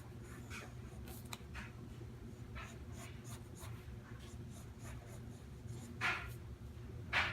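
Pencil strokes scratching across paper while sketching lungs in a heart diagram, soft repeated scribbles at close range with a couple of louder strokes near the end, over a steady low background hum.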